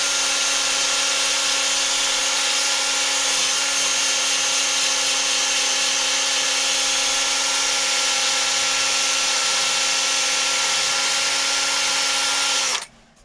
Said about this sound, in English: start sanding this down and get it nice and smooth